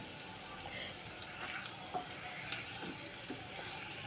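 Egg fry with masala and kasuri methi sizzling in a pan as it is gently turned, a steady hiss of frying with a few soft scraping stirs.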